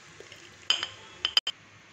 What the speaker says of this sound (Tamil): இப்போ வந்து இது ஒரு பிளேட்டில் மாற்றிடலாம்.